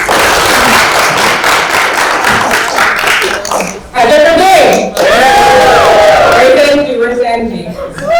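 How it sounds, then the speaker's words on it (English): A conference audience at the Columbia Africa Conference hosted by a business club gives loud, close applause that gives way to cheering and excited voices as a speaker is introduced. "So please give a round of applause for Omose Iguodala."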